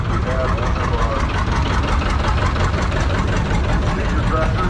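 A Minneapolis Moline Universal tractor engine idles at a vintage power show, a steady, loud, continuous rumble with a faint knocking pulse running through it.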